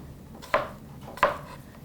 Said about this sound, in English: So we're almost done chopping our apples